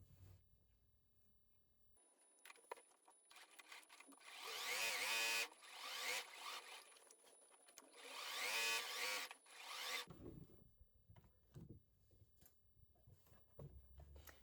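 Home sewing machine stitching the waistband of a fabric wrap skirt, two loud bursts of rapid motor whirring and needle chatter, each lasting a few seconds, separated by quieter handling and fabric rustle.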